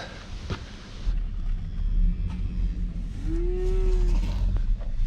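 Cattle on a farm moo in a low, drawn-out call midway through, heard over a steady engine rumble and outdoor background noise, with no talking.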